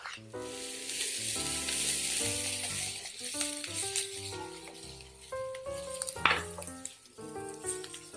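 Curry leaves and coriander leaves sizzling in a hot pan for potato bread balls: a faint, steady crackling fry with occasional stirring clinks, heard under louder background music.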